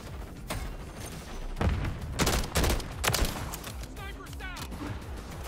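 Rapid assault rifle bursts in Modern Warfare III, several loud close volleys clustered in the middle with clicks and mechanical game sounds between them, and a voice speaking over parts of the action.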